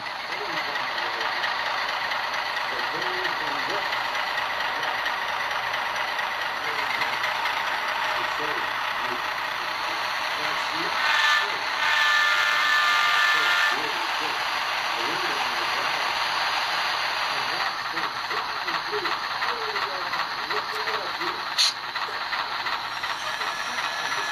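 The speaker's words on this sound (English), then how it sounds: "listen to this thing rev up a little bit" ESU micro sound decoder in a small model locomotive rises in a steady electronic engine rev, a continuous hissing drone with a brief louder swell partway through, heard fairly close.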